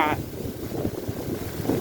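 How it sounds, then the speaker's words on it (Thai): Dry, cold wind sweeps over a harvested rice field, buffeting the microphone in a steady low rumble, with a voice showing up only briefly at the start and near the end. "โอ้ลมแห้งครับพี่น้องวันนี้ ลมหนาว"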